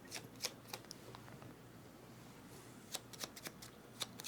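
Cards being shuffled for the castaway survival board game Perseverance: Castaway Chronicles, quiet riffling bursts with soft ticks near the start and a cluster of crisper riffles near the end, close and faint.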